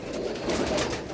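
Mixed pigeons in a loft, cooing in soft low murmurs that run steadily throughout, close and moderately loud, with no one talking.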